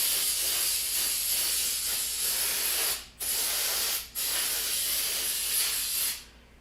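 Brake cleaner sprayed from an aerosol can onto a car's brake rotor in an auto repair shop: three long, loud, close hissing bursts with two brief pauses between them, and no voices.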